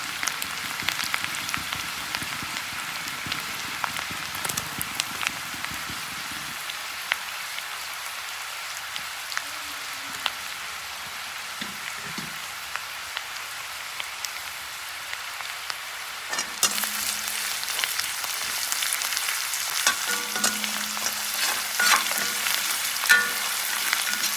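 Garlic paste frying in a pan while fish head and intestine fry is cooked Manipuri style, giving a steady rain-like sizzle with occasional stirring scrapes, growing louder and busier toward the end.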